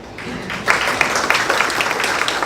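Audience applause in a room during a celebration program, a modest spread of clapping hands that starts abruptly and carries on steadily at moderate distance.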